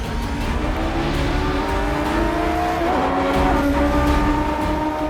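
Formula 1 cars accelerating off the start line in a race, a loud, steady engine roar with rising and shifting pitch lines as several cars pull away together, no voices.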